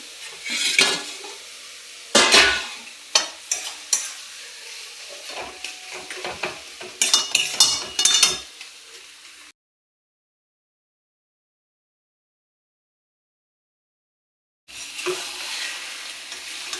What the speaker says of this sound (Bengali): মশলা দিয়ে ডিমগুলো কষাচ্ছি।